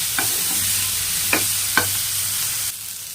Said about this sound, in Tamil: சேர்த்துட்டு இதையுமே நல்லா வதக்கிக்கோங்க